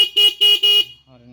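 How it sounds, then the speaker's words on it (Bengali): A Honda motorcycle horn sounds three loud, close, evenly spaced toots, then a quieter electrical hum follows. "হর্ন বাজছে আমাদের"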